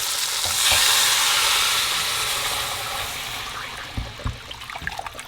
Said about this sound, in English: now that our beef is pretty much brown on all sides, we're gonna pour back in the liquid ingredients.